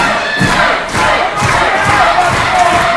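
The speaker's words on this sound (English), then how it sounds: "This capacity Mangere crowd doing their best to rally behind Kurt Brown, help him back to his feet" A capacity wrestling crowd in Mangere roars and rallies behind a fallen wrestler, loud sustained cheering and shouting with rhythmic bursts and thuds, continuous and close.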